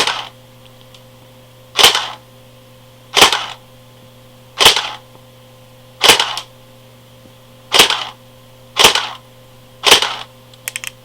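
A Cottonmouth AKS-74U airsoft gun fires on single shot, giving seven loud, sharp cracks spaced roughly one to one and a half seconds apart over a steady low hum, with a few small clicks at the end.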